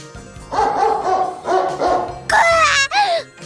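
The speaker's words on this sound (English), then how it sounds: "The dog barks loudly" A big dog lets out several loud, deep barks close by, then breaks into higher yelping and whining cries at the end.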